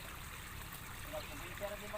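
Water from a spring flows and trickles steadily outdoors, a continuous close gurgling wash with a few brief brighter splashes; a voice may be faintly present in the background.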